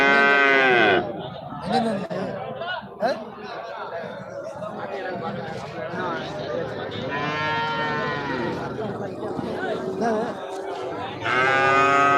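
Sindhi cattle at a live cattle and calf market in Thiruvonam low and moo repeatedly, loud and close, over steady crowd chatter and people talking.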